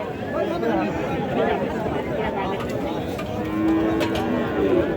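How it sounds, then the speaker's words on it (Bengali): Cattle, cows with calves, low at a busy rural livestock market in Chaubaria, Naogaon, their moos rising over the steady babble of a crowd talking nearby. "হাটের মাঝে যে গরুগুলো রয়েছে সেগুলো একটু দেখানোর চেষ্টা করি"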